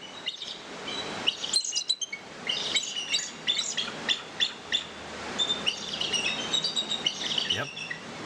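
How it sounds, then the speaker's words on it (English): Bald eagle calls, a series of high, thin, whiny chirping and piping notes repeated in quick uneven bursts, clear and fairly close. "Bald eagles sound very different. They have kind of a whinier kind of call."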